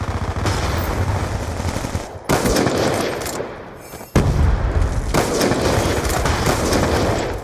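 Sustained automatic gunfire in a first-person shooter video game, a loud, dense continuous rattle broken by two brief pauses, no talking over it.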